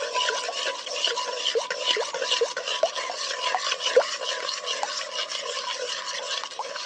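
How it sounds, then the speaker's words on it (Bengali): Spoon stirring agar agar powder into cold mango pulp in a bowl, a soft continuous scraping and swishing with small clicks, close and fairly quiet, no talking. "এটা এবার আমের মধ্যে দিয়ে দেবো। খুব ভালো করে নেড়ে চেড়ে নেবো।"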